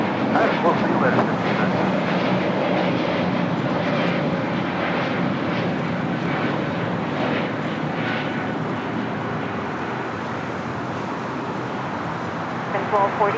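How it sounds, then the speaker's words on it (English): Spirit Airlines jet taking off at LAX, a loud sustained engine roar that gradually recedes, with talking over it throughout. "we got that Spirit flights. First takeoff."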